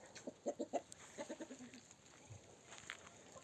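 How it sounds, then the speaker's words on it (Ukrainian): Poultry in a farm yard clucking and quacking in short rhythmic bursts of calls, moderately near, with quieter stretches of faint rustling between them. "Мій пташиний двір. Дивіться, які вже качечки."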